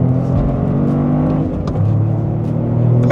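The engine of a 2025 Toyota GR Corolla automatic, driven on a track, hums steadily, then blips its revs up for a rev-matched downshift into second, with a loud close engine tone throughout and no talk.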